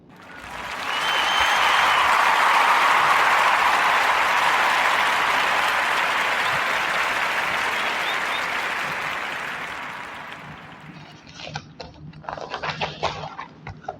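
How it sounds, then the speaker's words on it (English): A podcast audience applauds loudly and steadily for about ten seconds, then the clapping thins into scattered, fading claps. "So, salute Erica Alexandra and give her a round of applause"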